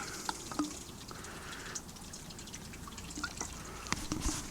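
White spirits drip in small amounts into seam sealer to thin it for sealing the seams of a Lanshan 2 Pro tent; a few faint, scattered drips and soft liquid ticks in a quiet room.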